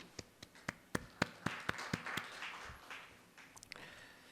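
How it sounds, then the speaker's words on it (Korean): Hands clap in a small year-end closing ceremony at a university, a quick run of sharp separate claps that blur into a light, brief patter before trailing off. "하나님께 감사의 박수를 올려드리겠습니다."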